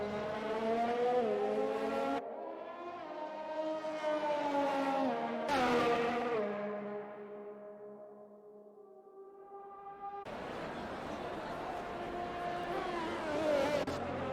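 Formula 1 cars in a racing video game at the Chinese Grand Prix, high-pitched engines whining and shifting through gears, one car rising and falling in pitch as it passes, with loud continuous engine noise throughout.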